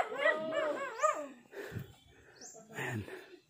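Farm dogs bark and whimper in a rural yard, several loud close yelps and barks in bursts, with a voice talking briefly between them.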